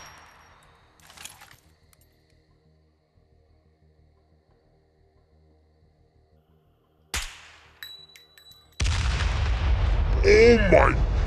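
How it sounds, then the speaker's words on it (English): A Bouncing Betty mine goes off in the SCUM video game: a sharp, loud blast cracks out after a long near-silent stretch, then a heavy roaring rumble swells and holds to the end while a voice cries out over it. "it's like a C4 explosion!"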